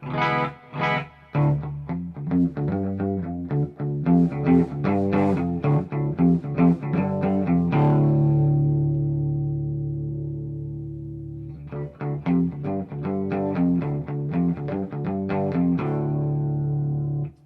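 An electric guitar plays through a Quilter 101 Reverb Mini amp head, with a run of bright plucked notes, a long sustained chord ringing out and fading, then more picked notes, all loud, clear and close.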